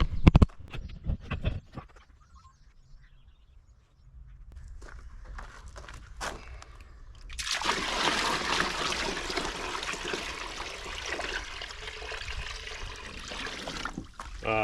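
Water pours and splashes into a MyPond MS300 mini pond, starting after some handling knocks and then settling into a loud, continuous rush of filling water.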